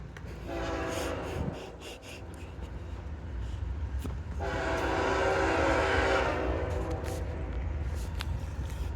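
A train rounds a curve at White Sulphur Springs, West Virginia, over a constant low rumble, sounding its horn in two long blasts, the second louder and sustained for several seconds.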